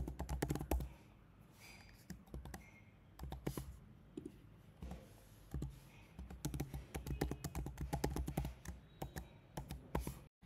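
Rapid, uneven keystrokes clatter on a computer keyboard as a username and password are typed in, close and fairly quiet, with short pauses between bursts of clicks.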